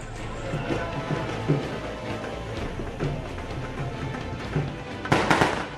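Fireworks set off in Gola to celebrate a sweeping BJP election victory, a dense crackle of steady bursts running throughout with a louder, brighter cluster of bangs near the end.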